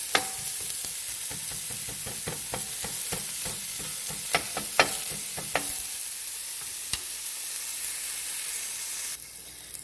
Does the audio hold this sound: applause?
no